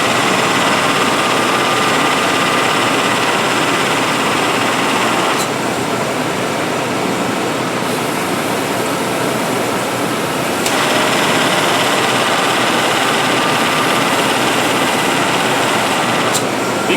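A 1998 GMC truck engine idles nearby with its AC compressor, a loud continuous mechanical drone that shifts slightly in tone partway through, with brief clicks and no talking.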